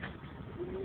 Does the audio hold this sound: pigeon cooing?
yes